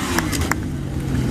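An army display-team motorcycle of the Royal Signals White Helmets accelerates toward a jump at a steam fair, a brief mid-distance engine rev with crowd noise around it.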